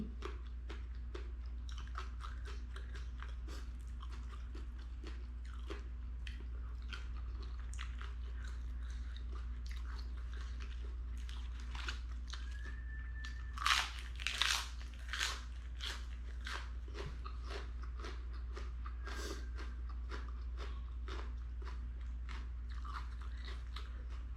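Someone eats salmon and shrimp with a spicy dipping sauce, close to the mic: a long run of small crunchy bites and chewing with a few louder crunches midway, over a steady low hum.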